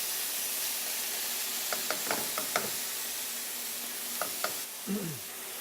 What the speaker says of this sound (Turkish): Dolayısıyla ete yer değiştiriyoruz ki su bırakmadan güzelce etrafının karamelize olması